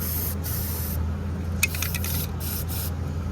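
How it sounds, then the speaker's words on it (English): Aerosol can of rust reformer sprayed steadily into a vehicle engine bay and along a seam, a close continuous hiss in several bursts with short pauses, over a low steady hum, no talking. "We got some rust reformer here. Just gonna spray it up in there and down the seam"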